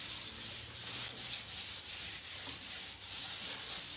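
Sandpaper rubs across a timber surface in steady back-and-forth strokes, a close, even hiss repeating about twice per second.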